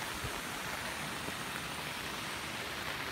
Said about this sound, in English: Huge amounts of rain through the night.